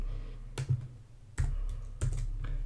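A computer keyboard used for JavaScript coding gives a few separate clusters of close, crisp key clicks and presses, with quiet pauses between them.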